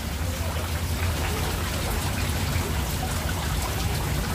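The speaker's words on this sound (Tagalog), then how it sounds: "Bugso-bugso na ulan. May pabugso-bugsong ulan." Steady rain pouring down, a dense continuous hiss with a low rumble beneath it, no voices.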